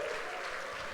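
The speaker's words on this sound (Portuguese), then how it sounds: "dê um aplauso bem forte ao Senhor" Congregation applauding during a church service, a steady dense wash of clapping filling the short moment without pause.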